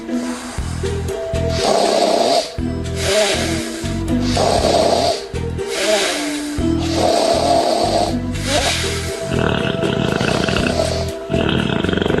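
Heavy snoring from a sleeping person, a series of loud rasping, rattling breaths repeating at a regular rhythm of about two seconds, some with snorting, close and alone.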